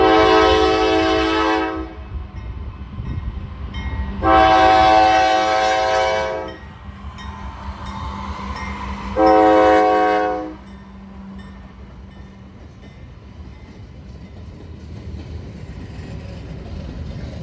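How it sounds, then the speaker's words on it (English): Norfolk Southern freight NS 178, a daily manifest, pulling into a rail yard, sounding three long, loud horn blasts over a steady rumble of rolling cars and low engine drone that carries on after the horn stops. "I'd stick around for a couple more trains here, including this, NS 178 pulling into the yard"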